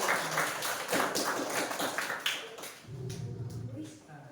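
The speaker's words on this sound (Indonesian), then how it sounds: "Tepuk tangan dulu untuk kita semua." Clapping in a primary school classroom, a rapid, moderately loud run of claps from pupils for about three seconds, then fading into lower murmuring voices.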